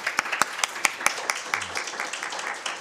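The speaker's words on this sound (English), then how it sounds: "welcome him with a big round of applause" A forum audience applauds a Korean company founder as he is welcomed onstage, with a brisk run of overlapping hand claps that start sharp and loud, then blur into a thinner, fading patter.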